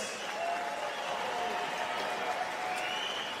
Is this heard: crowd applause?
yes